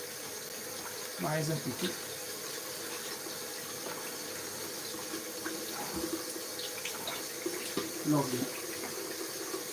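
Tap water runs into a kitchen sink while something is rinsed for a homemade pizza margherita, a steady broadband wash under quiet talk with a few splashy bursts.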